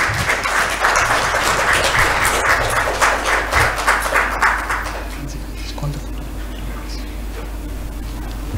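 An audience at a technical talk on automatic text summarisation gives a loud round of applause that holds for about five seconds and then fades away, with a voice audible under and after the clapping.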